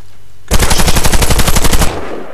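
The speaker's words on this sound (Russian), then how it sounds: "Смотрим дальше винтовка, допустим, Тавр израильский, автомат" A Tavor assault rifle in the Warface video game fires one loud, close burst of about a dozen rapid automatic shots lasting just over a second, then cuts off.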